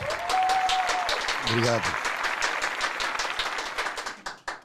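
An audience applauds to welcome a guest on a talk show, with dense steady clapping, a brief whistle-like tone early on, and a short spoken thanks near the end as the clapping fades.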